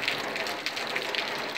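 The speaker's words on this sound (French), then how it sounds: "parce que là il pleut, c'est la shit quoi" Steady rain falls outdoors in a continuous hiss with soft pattering drops, close and moderately loud, with no speech.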